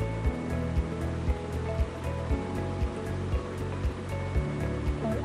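Sliced onions are mixed into gram flour batter for pakoras, producing a wet, squelching churn with rhythmic, regular strokes that sound close and fairly loud.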